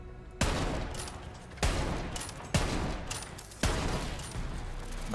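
Gunfire from a weapon in the video game Borderlands 3 roars in long, dense, sustained bursts, loud and continuous. Sharp attacks restart the firing about every second or so, with no pauses between volleys.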